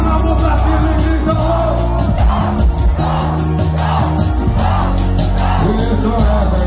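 Festival crowd at the São Miguel celebration in Baía da Traição yelling and whooping with hands raised, a loud sustained roar of many voices over booming music that rises and swells in waves.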